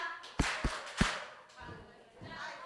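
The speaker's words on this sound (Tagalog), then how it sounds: "Kung ikaw ay masaya, pumalakpak ka." A congregation claps along to the children's song "If You're Happy and You Know It" at a church service: three sharp, close claps in quick succession, then softer sung or spoken voices.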